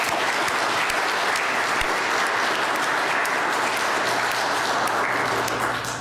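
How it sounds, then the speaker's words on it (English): A church congregation gives a sustained round of applause, steady dense clapping from a sizable crowd indoors, holding evenly for about six seconds with no talk over it. "I think we need to give a round of applause to those that had a hand in"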